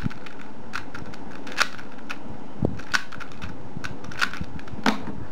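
Light plastic clicks and clacks of a modded Type A-V (Alpha-V) puzzle cube being turned, scattered irregular snaps over a soft background hiss, close up and fairly quiet.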